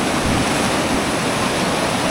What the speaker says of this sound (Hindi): और ये जो अभी पानी है काफ़ी ठंड है यार। प्रवाह तो आप देख ही रहे हो कितनी तेज़ है।